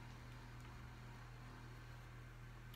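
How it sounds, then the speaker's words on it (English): A kitchen stove runs steadily in the background, a faint constant hum with a low tonal drone and soft broadband hiss, unchanging throughout and with no talk over it. "Sorry you hear the stove behind me."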